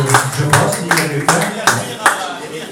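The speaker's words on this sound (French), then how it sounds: "On peut les applaudir même s'ils ne sont pas là." A crowd claps in slow, steady unison for race finishers at a 50 km brevet, with six or seven evenly spaced claps at a loud, close level and a voice murmuring underneath.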